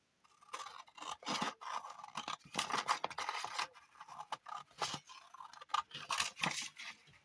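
Scissors snip and trim cardboard packaging for a handmade Christmas folio, a close, quiet run of crisp irregular cutting crunches and scrapes with short pauses and no voices.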